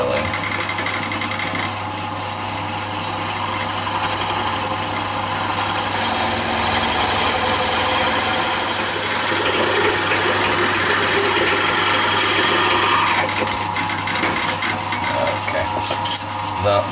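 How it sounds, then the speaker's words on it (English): A tobacco pipe being drilled on a lathe, with a steady loud motor hum and a continuous grinding, rasping cut from the bit running through the whole stretch. There is no speech. "And we can start drilling."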